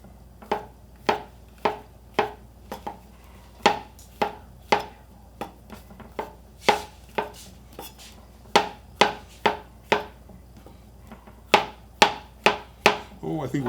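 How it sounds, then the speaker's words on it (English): A chef's knife slicing mushrooms on a cutting board, a close series of crisp, rhythmic board taps in quick runs with brief pauses, with no voices over them. "using a chef's knife, just doing some slices"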